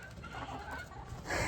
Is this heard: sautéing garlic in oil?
no